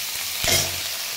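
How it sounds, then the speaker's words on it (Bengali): Prawn heads frying in hot oil, a steady bright sizzle with a brief louder hiss and faint low thump near the middle as the heads drop into the pan. "এবারে মাছের চিংড়ি মাছের মাথাগুলো দিয়ে দিচ্ছি"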